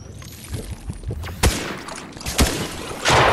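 Grenades explode in a video game shooter: a few sharp, booming blasts burst out one after another over a softer background of gunfire, and the last blast rolls on longer.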